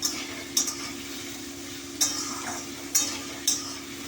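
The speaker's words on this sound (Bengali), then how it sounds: "এই আলুটা একটু অল্প করে একটু আগে ভেজে নেবো।" Potatoes being lightly fried in a pan give a quiet sizzle and hum, broken by four sharp scrapes and clinks of a spatula against the pan.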